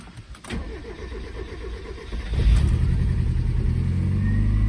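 A Mazda Miata with a bad injector cranks and sputters, a loud close engine catching and chugging unevenly before settling into a steady rough run.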